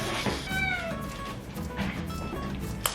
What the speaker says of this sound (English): I think I'm hearing my cat. She's scratching on the door.